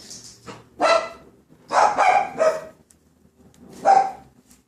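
A small dog barks several times up close, in short sharp bursts with a gap between each, one or two yips at a time in an otherwise quiet indoor room.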